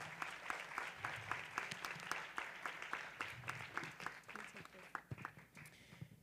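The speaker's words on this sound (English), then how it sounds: "So can we just please give Sarita a round of applause?" A small crowd applauds steadily with sharp, distinct claps that thin out toward the end, heard clearly at close range.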